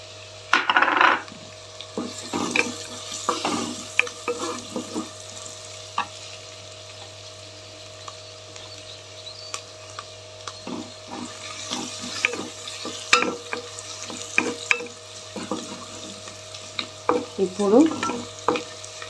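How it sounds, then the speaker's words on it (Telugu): Curry leaves hit hot oil with a brief sharp crackle near the start, then a long, steady low sizzle follows, broken by scattered spatula scrapes and knocks against the pan. "ఇప్పుడు ఇందులోకి కరివేపాకు వేస్తు కరివేపాకు వేస్తున్నాను"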